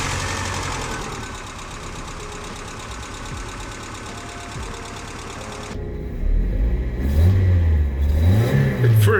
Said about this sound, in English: that's the first start of the Miata after 15 years